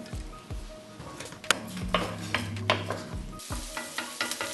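Onions sizzle in hot oil while a utensil stirs and scrapes against a pan in repeated clinks and knocks.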